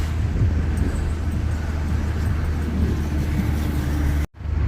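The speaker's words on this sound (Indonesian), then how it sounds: "Kebanyakan memang lori-lori kontainer, lori-lori besar." Highway traffic dominated by large container lorries, a continuous loud low rumble of heavy engines and tyres passing close by, ending in a sudden cut.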